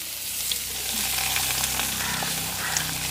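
Onion, mustard seeds, fenugreek, cumin and curry leaves fry in hot oil for a Jaffna-style brinjal and chickpea curry, giving a steady, dense close sizzle with small pops and crackles throughout and no voices.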